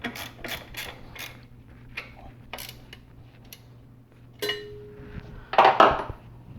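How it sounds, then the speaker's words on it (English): Bolts are tightened on a Subaru Legacy alternator, giving scattered metallic clicks and ratcheting taps up close, with a short louder clatter near the end. "Then tie the bolts down."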